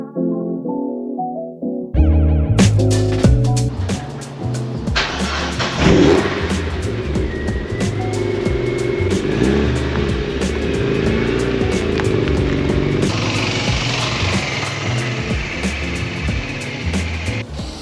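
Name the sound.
Aprilia RS4 125 motorcycle and car being moved out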